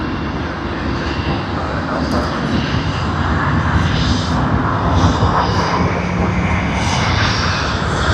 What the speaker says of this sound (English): As you all know, this is the Boeing 777-200 LR, long range, not the ER.